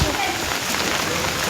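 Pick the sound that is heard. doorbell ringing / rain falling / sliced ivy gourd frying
rain falling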